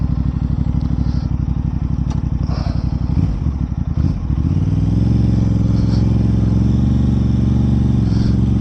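A 2026 Aprilia RS 660 sport bike rides through downtown city streets, its engine buzzing steadily and loud with rapid pulsing, easing off briefly midway before settling into a smooth, constant drone.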